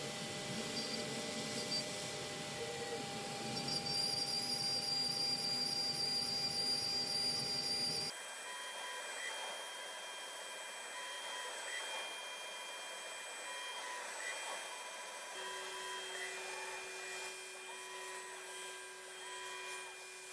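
CNC router milling a workpiece under Estlcam control, a steady whining spindle drone with a shifting hum as the cut changes, continuous and fairly faint throughout.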